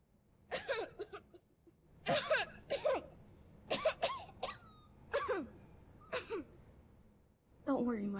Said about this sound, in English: Mushroom, comfort Daniel when he started coughing